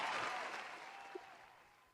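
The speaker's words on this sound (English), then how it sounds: "Round of applause" A studio audience claps, the applause already at its peak and tapering off steadily over about two seconds, fairly faint and without talking.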